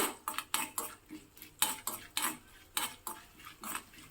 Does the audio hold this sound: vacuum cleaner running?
no